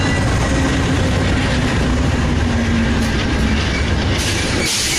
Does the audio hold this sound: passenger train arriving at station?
yes